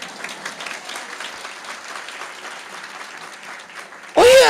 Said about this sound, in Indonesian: Kalau tepuk tangan setengah-setengah, jangan tepuk tangan.